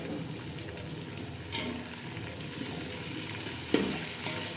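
Green chillies frying in hot oil as a tadka for biryani, a steady sizzle and crackle with occasional spoon stirs and clinks against the pot.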